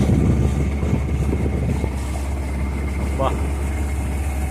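Small boat engine idling and chugging steadily on a Kerala backwater trip from Varkala toward Ponnum Thuruthu island, a low continuous rumble throughout with a person speaking briefly over it.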